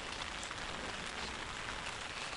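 Steady rain falls on a wet surface with an even, dense hiss and no breaks, and it holds at one level throughout. No voices are heard.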